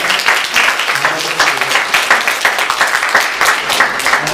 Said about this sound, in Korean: 박수로 잘 환영해 주시기 바랍니다